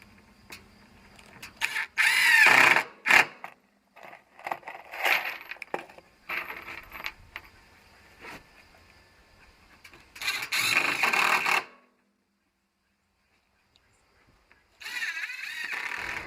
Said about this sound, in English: Basically, I'm just going to screw it all on